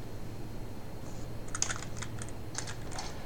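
Typing on an Ultimate Hacking Keyboard produces short bursts of crisp, quiet key clicks in small irregular clusters over a faint low hum, close to the microphone.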